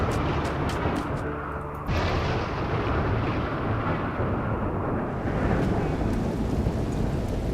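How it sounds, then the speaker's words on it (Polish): A thunderstorm in the video game RimWorld rolls on as a steady, loud, deep rumbling roar with a heavier swell near the start, with no speech over it. "Mamy także niestety nadejście burzy."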